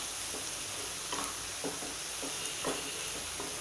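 Onions sautéing in a pan for paneer bhurji give a steady broadband sizzle, with a few soft stirring scrapes and clinks rising above it throughout, close and moderately loud.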